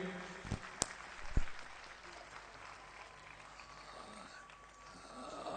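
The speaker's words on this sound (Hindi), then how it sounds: "तालियां के साथ का स्वागत कीजिए" Audience applause welcoming a performer onto the stage at a religious stage event, a faint, steady wash of clapping with a couple of sharper knocks near the start.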